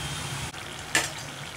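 Murukku made from store-bought flour deep-frying in hot oil, a soft steady bubbling hiss with one short sharp clatter near the middle, close and without talk.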